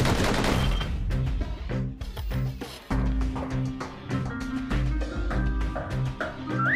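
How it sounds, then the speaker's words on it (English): Rapid pistol fire from the action game Bastion, a dense run of sharp shots firing in quick bursts, loud and close, with musical game sounds layered underneath and no talking. "Those pistols could spit out rounds just as quick as you could pull the trigger."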